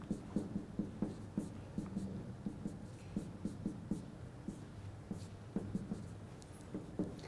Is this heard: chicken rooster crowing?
no